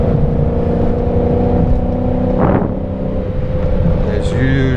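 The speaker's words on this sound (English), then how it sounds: "I'm now going to attempt a downshift into fourth gear while not holding my steering wheel." A BMW 540's engine runs steadily from inside the cabin during a downshift into fourth gear, giving a continuous drone with a short rising blip partway through, while someone speaks over it.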